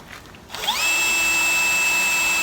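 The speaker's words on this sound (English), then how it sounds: "Now I've just drilled this out with a 4mm, it's a pilot hole" A power drill spins up after a brief quiet moment and whines at a steady high pitch, loud and close, drilling a 4mm pilot hole during a MAN 8.136 truck build.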